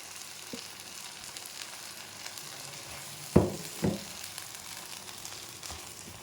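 Low steady sizzling of a ground paste frying in a pan for green chili potato kurma, with two short louder bursts as the thick mixture is stirred and pressed around.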